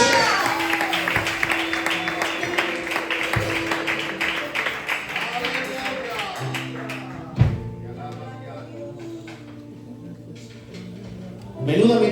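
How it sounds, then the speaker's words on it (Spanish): Church congregation applauding, a dense burst of clapping that gradually thins out, followed by a thump and quieter moments with a voice speaking. "Damos un aplauso a la palabra de Dios."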